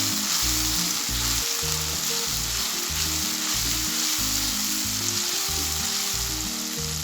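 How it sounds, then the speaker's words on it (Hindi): Crushed red chilli roasts in hot oil for a capsicum chicken dish, a loud continuous sizzle and crackle up close, steady for several seconds under a low, pulsing background hum. "सबसे पहले कूटी हुई लाल मिर्च, इसको हमने अच्छे से भून लेना है।"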